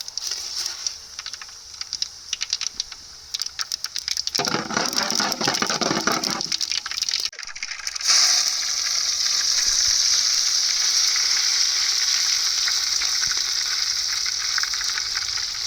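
Mustard seeds sizzle and crackle in hot oil for tempering crab curry, with scattered sharp pops, then a steady loud frying hiss takes over after a short break.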